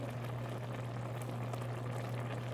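Red lentil dal bubbles in a pot on the stove, a steady close simmer of dense popping bubbles over a low hum, continuous with no talk.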